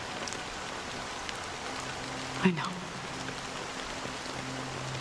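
Rain falls steadily in the video game Honkai: Star Rail, a soft, continuous patter in the background while a voice speaks briefly midway.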